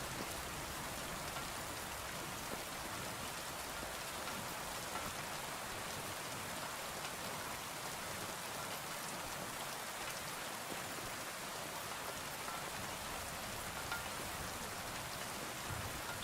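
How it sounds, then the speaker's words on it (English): Rain falls steadily in the video game Kingdom Come: Deliverance II, a dense, unbroken hiss of drops hitting surfaces that holds at an even level throughout. "Love the sound of the rain."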